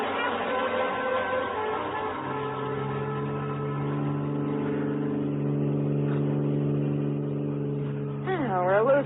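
A car speeds along as a radio drama sound effect, a steady, loud engine drone whose tone holds and slightly rises, with a brief squealing sweep near the end and voices talking over it.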